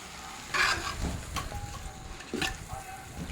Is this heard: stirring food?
yes